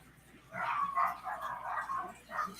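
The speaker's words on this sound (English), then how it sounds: "You can hear them barking like crazy." Several dogs bark and yip in short repeated bursts, fairly faint and somewhat distant, over a low background hum.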